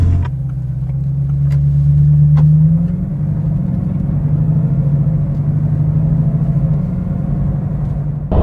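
A Bugatti Chiron sports car engine rumbles loudly and steadily nearby, its deep drone rising briefly then settling into a sustained cruising hum.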